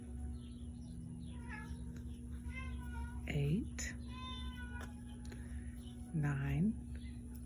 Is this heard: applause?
no